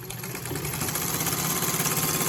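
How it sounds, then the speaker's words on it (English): A Japanese Singer-clone Universal precision sewing machine runs steadily through a small, tight test stitch, with a fast continuous mechanical whir and hum close by. "let's do just another test run of a smaller and tighter stitch"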